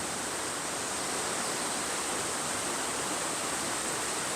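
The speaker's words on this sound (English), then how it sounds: "here's that creek that comes out from under the road and flows on down" A creek flows out from under a road at Amicalola Falls State Park, making a loud, steady, unbroken rush of water that fills the whole stretch without pause.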